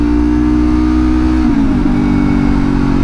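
A motorcycle engine drones loud and close, its steady tone dipping and wavering midway as the rider downshifts hard through the gears, with no pause in the running engine.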